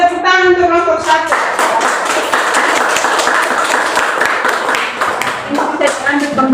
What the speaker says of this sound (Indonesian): Kita tepuk tangan untuk kelompok 1